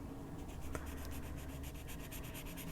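Colored pencils shade in blue and turquoise on paper with soft, rapid back-and-forth scratching strokes, close and faint, in a steady rhythm.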